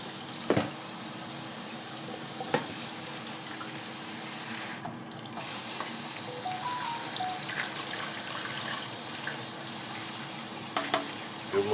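Running water pours steadily over collard greens being rinsed in a sink, a continuous close splashing wash with a few louder clatters and bumps.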